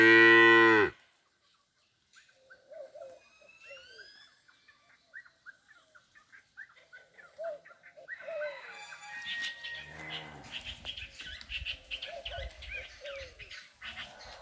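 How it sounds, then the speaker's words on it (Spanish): Cows low in the countryside, with a loud moo at the start followed by quieter calls, birds and fowl in the background, and a few bursts of handling noise. "Tiene sed, la vaca tiene sed."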